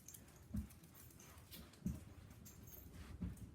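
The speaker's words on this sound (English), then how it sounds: "Sorry about my dog." Three soft, low thumps about a second apart, like a dog's paws or body bumping nearby, faint against a quiet room.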